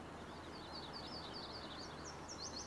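Birds in the Farming Simulator 19 game on a South Brazilian map give faint, high chirping calls in repeated short bursts over a quiet, steady background.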